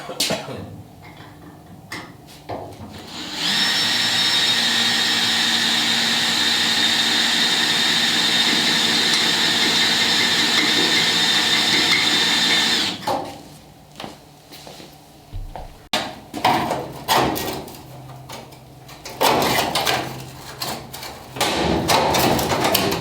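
A power drill whines steadily at close range for about ten seconds, drilling out spot welds on a Ford Bronco body, then cuts off, followed by scattered clunks and handling noises.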